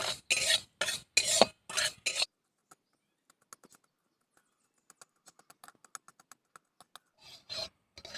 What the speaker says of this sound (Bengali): চিনি দিয়ে দিয়েছি, এবার আমি নাড়াচাড়া করে এটা ক্যারামেল বানিয়ে নেব।